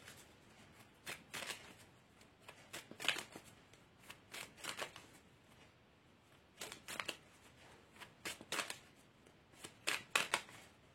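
Tarot or oracle cards riffled and shuffled for a reading, coming in soft, crisp bursts of papery flicks at irregular intervals, close and fairly quiet, with no voice.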